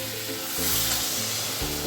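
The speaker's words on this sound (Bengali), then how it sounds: "এইবার আমি ওতে জল দিয়ে দেবো" A steady, loud sizzle of water poured onto spices frying in a hot pan, hissing continuously with a low bubbling rumble underneath.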